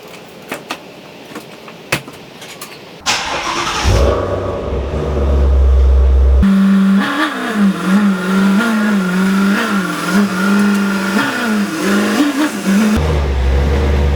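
A 2017 Shelby GT350 V8 starts with a few clicks and thumps, then fires up loud and close, idling and blipping the throttle in uneven revs before settling.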